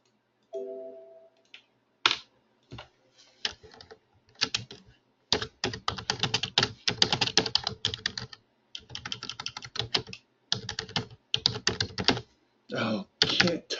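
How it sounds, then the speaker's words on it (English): Typing on a computer keyboard comes in bursts of rapid, close key clatter separated by short pauses, with a brief tone near the start and no talk over it. "Oh, can't type today."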